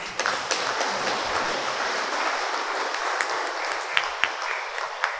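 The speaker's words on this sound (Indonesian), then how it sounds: "Kita kasih aplaus." Audience applause for newly installed church elders and deacons at a Sunday service, a steady wash of clapping filling the room with a few sharper claps standing out near the end.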